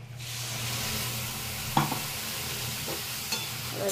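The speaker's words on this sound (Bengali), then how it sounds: "আমাদের ওটসগুলো ভাজা ভাজা হয়ে এসছে।" Oats frying in a pan for a vegetable oats khichuri, a steady close sizzle with a low hum beneath and a few sharp scrapes of stirring, no voices.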